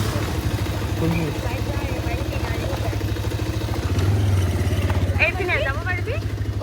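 A motorcycle engine runs while being ridden along a hilly route, giving a rapid, even low putter that continues throughout. A voice talks over it, and toward the end there are faint higher chirps.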